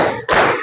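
A class of students clapping hands together, two dense bursts of many claps close and loud, the second following right after a brief dip.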